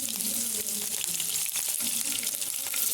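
Green chillies fry in a pan with a continuous dense hiss and sizzle, steady and fairly loud throughout with faint background tones.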